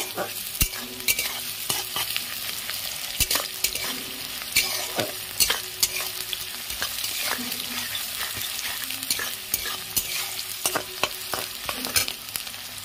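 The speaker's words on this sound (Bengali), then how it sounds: "পেঁয়াজগুলো হালকা লাল করে ভাজা হয়ে গেছে" Onions sizzle steadily in a hot pan, frying to light brown for khichuri, while a utensil stirs and scrapes with frequent sharp clicks.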